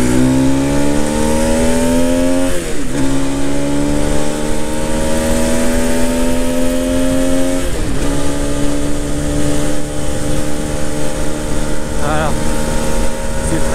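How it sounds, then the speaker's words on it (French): Rieju Century 125 motorcycle accelerating hard through the gears, its engine note rising in pitch with each gear then dropping at shifts around three and eight seconds, loud and close, with wind noise throughout. "Et ça c'est le point pour moi le plus intéressant de cette moto là. Cette sensation d'accélération."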